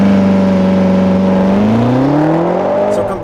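A Mercedes-AMG GLC63 S with a twin-turbo V8 and all-wheel drive launches hard, its loud engine droning steadily before climbing sharply in pitch as it accelerates through the revs, heard up close with no talking.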